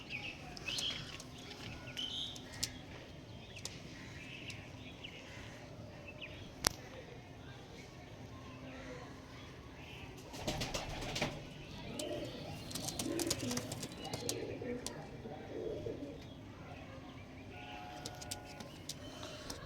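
Pigeons in a seller's collection, faint cooing and scattered chirps over a low background hum, with a few sharp clicks and short bursts of noise.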